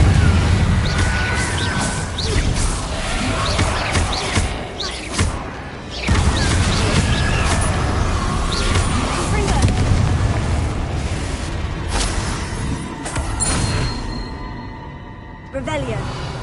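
Repeated Confringo blasting-spell explosions in Hogwarts Legacy on PlayStation 5, loud booming bursts over a dense game soundscape, with a brief drop near six seconds and a player talking throughout.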